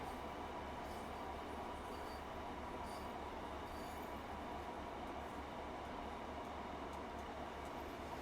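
A train on the West Cornwall local line in Train Sim World 4 runs continuously with a steady low rumble and constant wheel noise, plus faint squeals and occasional clicks, heard alone without talk.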